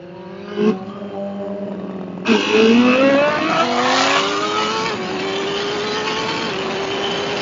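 A Hayabusa superbike engine revs hard in B mode before a wheelie, pitch climbing through sharp rising sweeps then settling to a steady drone, loud and close with no talk.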